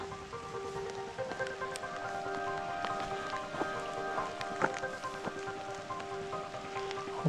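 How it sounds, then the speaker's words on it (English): Light rain pattering steadily on a tarp and surroundings at a night campsite on an Algonquin canoe camping trip, soft continuous drip texture with scattered sharper drops and faint tonal background, no talk. "It's got a little bit of rain here tonight."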